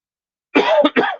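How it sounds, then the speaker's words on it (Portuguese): A single close cough, a quick harsh double burst, after a moment of silence. "Desculpa a minha tosse."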